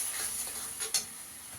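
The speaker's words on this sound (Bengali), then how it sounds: "মশলাটাকে ভালো করে কষিয়ে নেব।" Spice paste of Kashmiri chili powder, cumin and coriander powder being sautéed and stirred in a pan for fish kalia, a faint steady sizzle with a soft scrape of stirring near the end.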